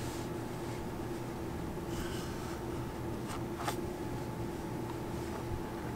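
A gauze pad scrubs a metal beam with etchant, making a continuous, soft, scratchy rubbing sound over a low, steady hum.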